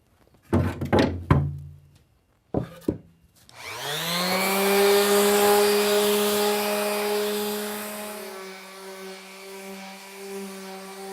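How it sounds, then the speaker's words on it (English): A few hard wooden knocks come first, then a palm sander starts up and runs with a steady buzzing whine while sanding a bookcase's adjustable shelf. The tone drops slightly as it keeps going, loud and close. "I like to sand down each section with the palm sander first"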